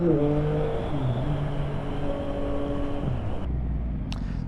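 2023 Yamaha XSR 900 motorcycle riding on a road, its engine note shifting up and down through gears in a steady loud drone with wind and road rush, ending in a quieter rumble.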